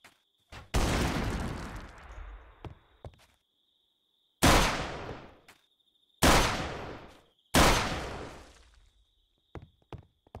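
Minecraft machinery from the Manufactio modpack firing in a few sharp bursts, each a loud blast that decays over a second or so, with long gaps between and some small clicks, alone without talk.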